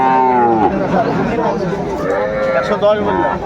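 Cows and calves call with drawn-out moos at a busy cattle market, close and loud, over steady crowd chatter and talking voices.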